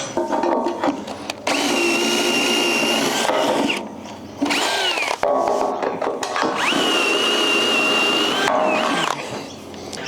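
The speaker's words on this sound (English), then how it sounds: "just going to go through and pre-drill every single hole for that one" A power drill with an auger bit whines at a steady high pitch as it pre-drills holes in wood beams during house construction, running in long sustained bursts with short pauses between holes.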